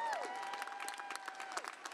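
A commencement crowd at John Jay College claps steadily throughout, with a sustained whistling tone sliding in and out over the applause.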